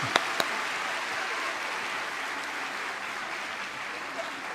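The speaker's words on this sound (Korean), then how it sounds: "우리 한 번 더 큰 박수를 격려해" Church congregation giving a big round of applause for the children's department at a Korean dawn revival service, a sustained, even crowd clapping with a few sharp nearby claps at the start.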